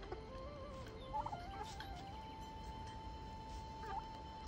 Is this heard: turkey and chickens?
yes